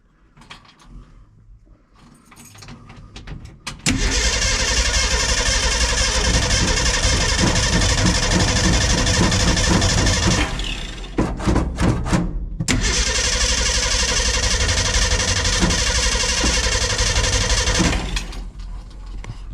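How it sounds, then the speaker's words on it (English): A 1956 Ford Econoline, found sitting in a field, cranks and fires up, roaring loudly and steadily for several seconds, cutting out briefly, then restarting and running again before dropping off, with no talking. "Let's see if this thing wants to start."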